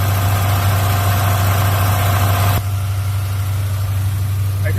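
Steady low idle of a Mitsubishi Montero engine with about 250,000 miles on it, a loud constant drone that drops slightly in level partway through, with no talk.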